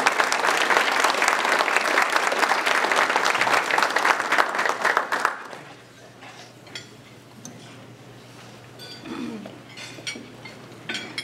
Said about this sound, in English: let's give them a round of applause and thank them